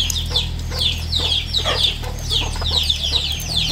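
Chickens cluck repeatedly at morning feeding on a farm, close and busy clucking in quick bursts over a low steady background hum.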